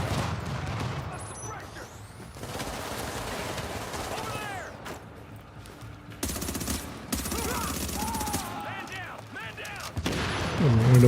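Engineer turrets firing in a shooter game, with repeated rapid bursts of gunfire and booms layered over busy combat noise and game effects, growing louder toward the end.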